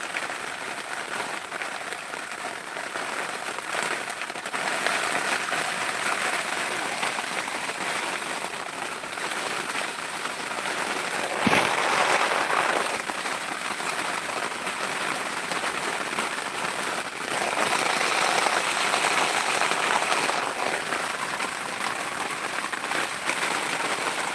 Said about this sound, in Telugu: వర్షం చాలా ఎక్కువగా ఉందండి